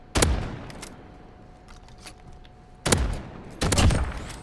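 Three loud, sharp R9-0 shotgun blasts fired in the game Modern Warfare, one early and two close together near the end, separated by quieter stretches with faint clicks.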